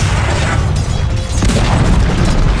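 The Dire middle tower crumbles in a Dota 2 match, a loud, rumbling crash with heavy low booms that persists for a couple of seconds.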